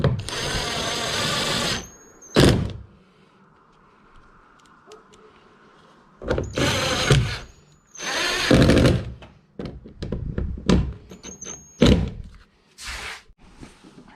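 A power drill drives screws into brass inserts in repeated bursts of high whirring, each run a few seconds long and ending tight, separated by quiet pauses and handling clatter.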